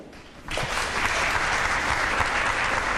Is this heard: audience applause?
yes